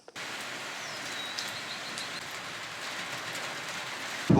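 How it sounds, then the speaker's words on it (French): Rain falls steadily at a train station in Faro, a dense, even hiss with faint tonal squeals and a brief louder knock at the very end. "il pleut, on a pris une saucée, mais ça se met à pleuvoir"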